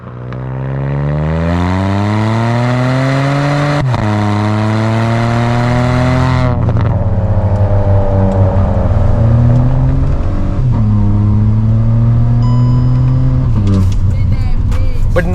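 A Hyundai i20 N-Line engine runs with its dual-clutch gearbox in manual mode as the driver shifts with the paddles. The loud, steady engine note climbs in pitch and drops at each of about four upshifts, with no talk.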